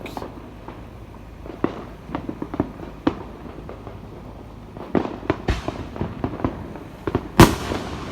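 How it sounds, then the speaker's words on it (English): Fireworks for the Fourth of July go off in scattered sharp bangs and crackles, some near and some farther off, over a low rumbling background, with one loud close burst near the end. "There's a lot of fireworks."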